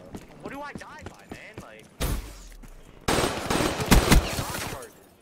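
Light machine gun fire in Call of Duty Black Ops: after someone talks, loud sustained bursts of automatic fire come close up, with a short burst followed by a longer, heavier stretch.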